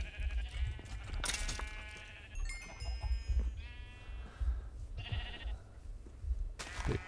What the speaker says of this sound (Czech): Ovce si chci taky pořídit.